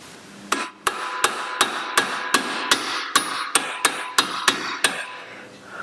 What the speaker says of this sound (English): I hammer it in place.